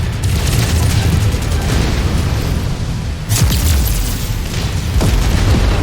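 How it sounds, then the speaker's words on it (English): A MechWarrior 5 missile strike booms in heavy, continuous explosive rumbles with a sharp fresh burst midway, loud and dense throughout. "Incoming missile."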